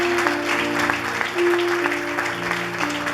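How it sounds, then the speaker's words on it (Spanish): A church congregation claps together during a Sunday service, a dense, steady burst of applause with sustained musical tones from instruments underneath. "Denle un aplauso fuerte, Dios."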